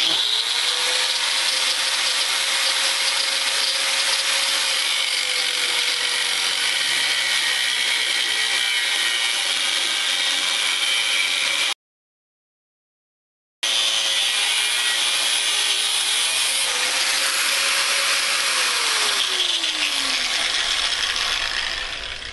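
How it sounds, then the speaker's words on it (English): A cutoff wheel slices through metal stock for a war hammer, giving a loud, sustained, high-pitched grinding whine that shifts pitch as the cut progresses, briefly stops, then resumes. "I'm going to use this cutoff wheel to just lop off the material that I need to cut off."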